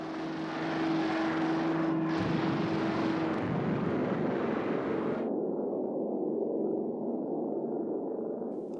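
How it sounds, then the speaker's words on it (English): Carrier planes flying to bomb Peleliu island in World War II, a loud sustained droning roar of aircraft engines, with high hiss dropping away partway through. "planes from the aircraft carriers bomb the island of Peleliu"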